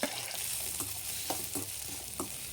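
Two small-chopped onions fry in a pan, a soft, even sizzle broken by a few light stirring scrapes, faint and close with no voices.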